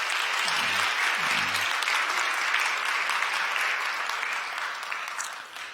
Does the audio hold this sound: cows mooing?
no